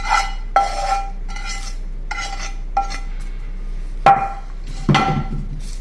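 A spoon stirs oil into mango pickle (magaya) in a bowl, giving several distinct scraping, clinking strokes at irregular intervals. Close and fairly loud, with a steady low hum underneath and no speech.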